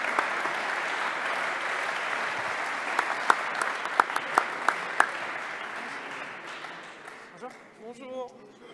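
An audience at an awards ceremony claps steadily with dense, sustained applause and a few sharper nearby claps, fading out as a voice begins speaking near the end.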